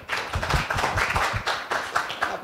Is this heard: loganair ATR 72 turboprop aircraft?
no